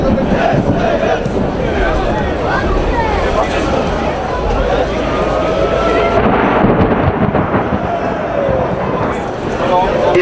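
Thunder rumbles through a heavy storm at a football match between Ruch Radzionków and GKS Katowice, a dense continuous roar blended with rain and crowd noise, with people talking.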